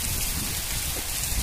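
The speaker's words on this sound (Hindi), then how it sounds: "बहुत अच्छी बारिश हो रही है।" Rain falling steadily in a village, a dense, even patter of drops on surfaces that fills the whole short stretch with no pauses and no talking.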